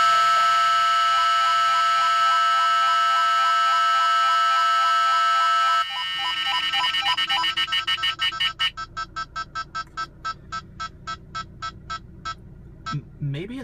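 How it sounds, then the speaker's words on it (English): Electronic K-band alert tones from Valentine One and Max2 radar detectors at max volume: a steady high-pitched chirping tone, then a warbling alarm, then a run of loud, evenly spaced buzzing beeps, all close and prominent. "the like loud alarm buzz tones that we get from both the V1 and the Max2"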